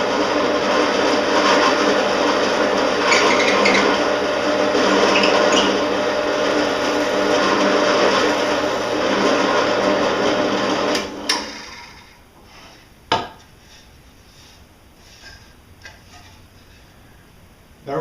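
A drill press with a 1/4 inch Forstner bit bores a hole in a wood workpiece for a knick knack shelf: a loud, steady mechanical whir that runs for about eleven seconds, then cuts off, followed by a few sharp clicks in near quiet.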